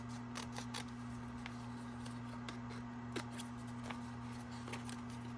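Scissors snipping paper while making a Dear Santa journal, a series of faint, sharp cuts spaced irregularly over a steady low hum.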